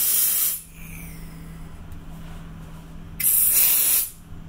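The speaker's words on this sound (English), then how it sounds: "I never tried spray ice before." Aerosol ice spray hisses onto a chocolate bon bon in two loud, broadband bursts, the first about half a second long and the second nearly a second, with quiet room tone between them and no talking.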